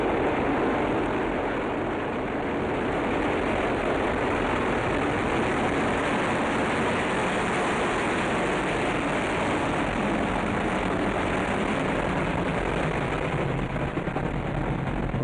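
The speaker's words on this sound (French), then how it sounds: "Soyouz s'élever, c'est beaucoup plus lent qu'Ariane 5, une poussée de 336 tonnes au décollage." A Soyuz rocket lifting off at liftoff with about 336 tonnes of thrust, its engines and boosters producing a steady, distant, broadband roar that rumbles on unbroken without voices.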